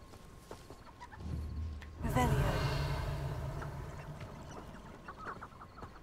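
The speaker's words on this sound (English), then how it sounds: "Oh, there's chickens. I was like, what is that noise?" Video game chickens clucking in a fantasy wizard-world setting, a burst of busy fowl calls that swells in and then lingers faintly behind ambient game sounds.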